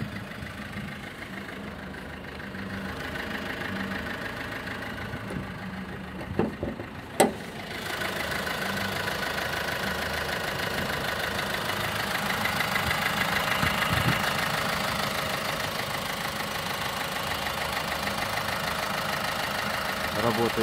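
A 2016 Opel Astra engine idles with a steady, even hum, while someone talks over it throughout and two brief knocks sound near the middle.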